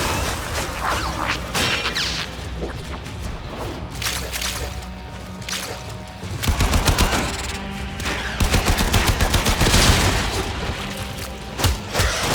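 Dense weapon fire and booming impacts in the sci-fi shooter Warframe, a continuous barrage of rapid shots and mechanical clatter that intensifies in loud stretches partway through, no voices.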